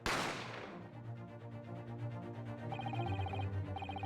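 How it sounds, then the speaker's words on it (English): A single sharp gunshot from The Great Ace Attorney Chronicles video game cracks out at the start and decays quickly into a sustained game music backing with tonal chimes. "You heard the gunshot, you mean?"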